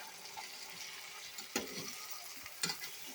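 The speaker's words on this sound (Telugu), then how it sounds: "అడుగంటకుండా చూసుకుంటూ కలుపుకుంటూ ఉండాలి" Masala is stirred as it fries in oil in a pan of brinjal curry, a soft, continuous sizzle with a couple of sharper scraping strokes, quiet and close.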